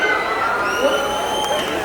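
A large crowd gathered for a Shah Rukh Khan evening event at Adyar Garden sends up a steady wash of cheering and shouting, dense and continuous throughout with a few brief higher yells standing out.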